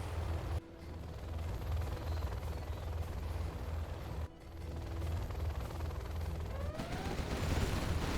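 A Gatling cannon firing in the video game Command & Conquer: Generals Zero Hour, a rapid, continuous mechanical roar of heavy gunfire throughout, briefly cutting out twice before resuming at full intensity.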